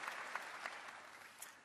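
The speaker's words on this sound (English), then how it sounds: "Let's give Ray a round of applause, everybody." A conference audience applauds in a steady wash of clapping, faint and evenly sustained throughout the short stretch.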